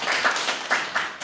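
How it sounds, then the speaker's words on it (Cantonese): A church congregation gives a short round of applause, a close, brisk wash of clapping hands that swells in small waves and then tapers off. "大家俾啲掌聲"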